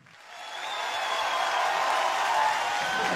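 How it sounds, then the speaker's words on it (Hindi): Sustained audience applause at a televised Filmfare music awards evening, swelling in within the first second and then holding steady and full, like a large crowd clapping together in a big hall, with no talk over it. "तालियां।"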